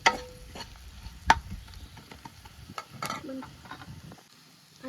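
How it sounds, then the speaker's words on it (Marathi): Garlic-chilli chutney roasting in a pan for Maharashtrian jhunka, a soft, low sizzle broken by scattered scrapes and taps of a spoon, fairly faint, with no talking. "मस्तपैकी भाजून घ्यायची आहे."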